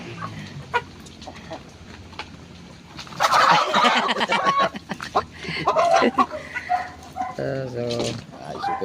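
Shamo chicken squawking and clucking loudly as it is caught by hand, frantic bursts of calls with flapping and scuffling close by, other fowl in the background and someone talking briefly.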